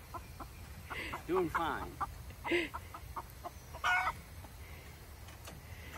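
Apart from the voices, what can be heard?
chicken clucking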